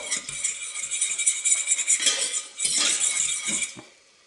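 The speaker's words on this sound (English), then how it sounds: "So now we just give that a stir." A utensil stirs rice in a pot of boiling water, scraping and clinking in quick, uneven strokes, close by, fading out at the end.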